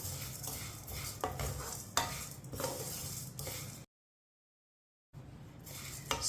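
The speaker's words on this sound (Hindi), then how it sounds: "सेवियां को भी 2 मिनट के लिए पका लेंगे।" Vermicelli stirring and roasting in a pan over low heat, with a steady soft sizzle and scraping of a spoon against the pan, interrupted by a brief gap of silence midway.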